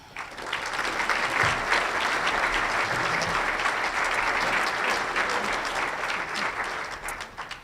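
Audience at a Rotary club meeting applauding to welcome speaker Chris Mefford, a steady, full wash of clapping from many hands that holds at even loudness throughout before tapering slightly at the end.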